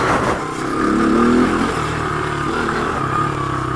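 A 1986 Honda ATC200X three-wheeler's small engine revs hard and steadily up close, its loud buzzing drone rising and holding throughout with no talking.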